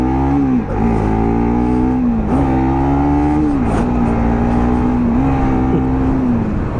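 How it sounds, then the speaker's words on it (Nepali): A motorbike accelerates hard at high speed, its engine note loud and close, holding a steady drone that rises and dips with gear changes and throttle over the whole stretch, with no talking. "अब चाहिँ मैले एकदमै स्पिडमा लग्छु बाइकलाई"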